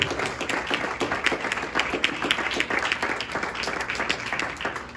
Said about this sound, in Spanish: Yo aplaudiría al Señor.